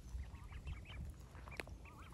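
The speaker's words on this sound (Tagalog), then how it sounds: "Ang mga bibe." Ducks quacking outdoors in Canada, several birds calling in short overlapping bursts over a steady low background rumble, moderately near.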